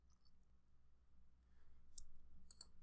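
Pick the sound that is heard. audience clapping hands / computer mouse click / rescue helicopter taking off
computer mouse click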